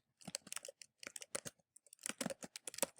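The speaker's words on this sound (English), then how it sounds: "I will type in my first question." Keys clatter on a computer keyboard as a quiz question is typed into a Google Form, in quick close bursts of clicks with a short pause in the middle.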